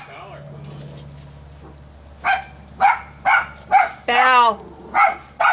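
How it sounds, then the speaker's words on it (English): A dog barks at the neighbors in a run of loud, sharp barks at a quick, uneven rhythm, one drawn into a longer yelping cry, after a moment where a person speaks quietly. "that's one of my dogs barking at the neighbors"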